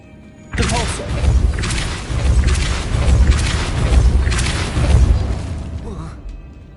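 A Depulso force spell cast in Hogwarts Legacy on PS4 Pro, heard as a loud run of booming thuds and bursts over dense game sound, with a voice talking in the mix.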